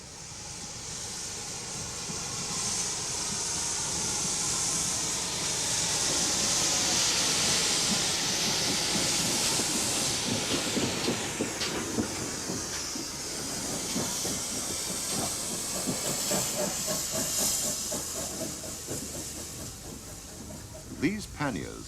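A GWR 5700 class pannier tank steam locomotive working nearby, with a steady broad hiss of steam and rhythmic chuffing and clanking that build and fade over about twenty seconds, loud and continuous throughout.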